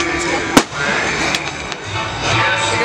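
Fireworks go off outdoors, with a sharp loud bang early on and a few fainter pops over a steady crowd din.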